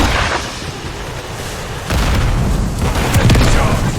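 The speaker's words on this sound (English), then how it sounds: "Tossing smoke grenade." A smoke grenade tossed during a Modern Warfare 3 War Mode match: a dull thump and rushing hiss amid constant battlefield rumble, loud and dense throughout.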